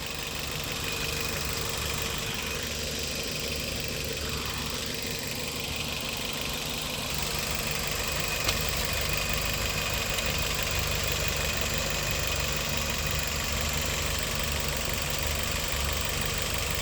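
A 2019 Maruti Wagon R VXI hatchback idles quietly and steadily throughout, a smooth low engine hum with faint mechanical ticking and no voices.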